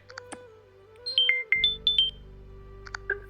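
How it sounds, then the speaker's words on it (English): A short electronic alert tune plays, a few quick high-pitched tones rising and falling, clear and close, followed by brief beeps. "ನೋಡಿ ಇದೊಂದು alert alarm ಅಂತ"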